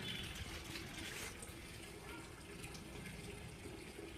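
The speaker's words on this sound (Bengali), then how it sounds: "জল এখানে ভরা হচ্ছে" Water pours steadily into a container in a steady, rushing gush that runs unbroken at moderate loudness throughout, with nothing else standing out.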